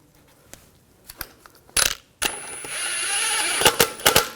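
A lug bolt is threaded by hand onto the wheel of a 2004–2009 Audi A4 Quattro, producing scattered metallic clicks and clanks, then a sustained grinding, ratcheting rasp with sharp taps, close and fairly loud.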